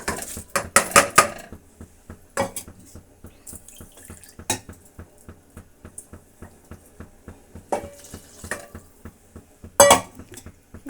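Uncooked rice poured into a cooking pot for avarekalu tomato bath, with irregular clattering rattles and faint clinks over a steady run of soft ticking, with no talk.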